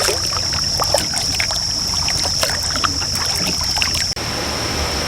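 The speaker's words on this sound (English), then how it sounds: "we got a Lowhead Dam coming up. You hear that?" Steady rushing roar of water pouring over a low-head dam on the Little Miami River in Ohio, heard from a kayak upstream, constant and fairly loud with a thin high whine and a few faint knocks.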